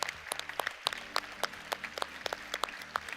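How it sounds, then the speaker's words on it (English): Audience applause at an EU youth conference in Växjö, a scattered round of individual claps over a low hum of the room, fairly quiet and uneven in rhythm. "maybe show some excitement and some applause before we conclude"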